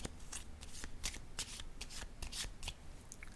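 Tarot cards being handled and laid down during a reading: quick, soft, papery flicks and slaps in a rapid irregular run, close by and fairly quiet, with no talk.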